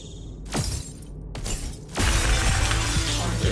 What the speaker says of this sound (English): But we need to break through this glass window